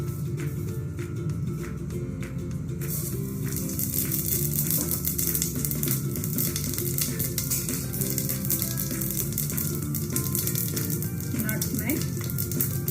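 Shahi jeera and other whole spices sizzle in warm oil for a mutton biryani, with a loud, steady crackling frying hiss that goes on throughout and swells slightly after the first few seconds.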